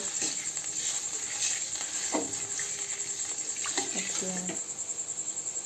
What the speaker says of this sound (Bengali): জলটা আমার ফুটে গেছে